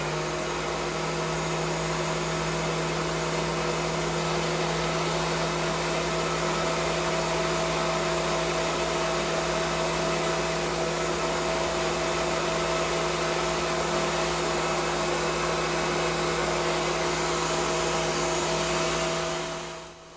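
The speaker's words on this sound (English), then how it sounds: "passing material this wide puts more strain on the planer than passing narrow boards" A planer feeds a wide live-edge walnut slab through, giving off a loud, unbroken high-pitched roar and whine that holds steady for the whole stretch before cutting off at the end.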